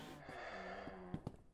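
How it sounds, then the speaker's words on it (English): A character in the horror game Jumpscare Corridor breathes in heavy, drawn-out gasps and sighs, close and fairly quiet, ending with a couple of sharper exhalations. "I hope that was my character breathing like that."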